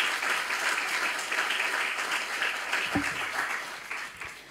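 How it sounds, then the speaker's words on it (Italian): An audience claps at a live cultural event, even, fairly soft applause that continues evenly before tapering slightly at the close. "vi farei un nuovo applauso"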